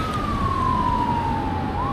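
A loud, steady fire truck siren wails nearby, its pitch falling slowly over a rumbling traffic background.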